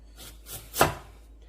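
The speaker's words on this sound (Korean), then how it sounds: "양파 얇게 당근도 좀 얇게 썰어줄게요" A knife cuts a single stroke through onion or carrot on a cutting board, a soft scrape building to one brief, close thud, alone in a quiet kitchen.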